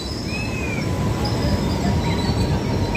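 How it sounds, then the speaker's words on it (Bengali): The down Ganadevta Express, Azimganj to Howrah, rolls through Rampurhat Junction with a loud, steady rumble of wheels on rail and thin high squeals from the wheels, heard close from the platform. "বন্ধুরা এটা হচ্ছে ডাউনে গণদেবতা এক্সপ্রেস"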